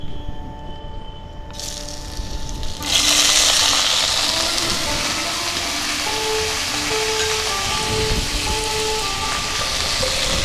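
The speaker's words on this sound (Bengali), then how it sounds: "সর্ষে চটর মটর করে ফাটছে, মানে ফোড়ন ভাজা হয়ে গেছে" Mustard seeds pop and crackle in hot oil during tempering for a summer bori ambol, a dense sizzling hiss that bursts in after a few seconds and holds steady, with a faint hum underneath.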